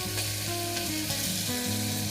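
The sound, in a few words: tomato added to frying mutton masala, sizzling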